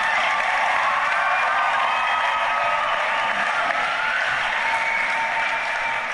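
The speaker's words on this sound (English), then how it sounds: "Let's give a round of applause for them right now." A church congregation gives a long, even round of applause, dense steady clapping with a few scattered cheers blended into the wash.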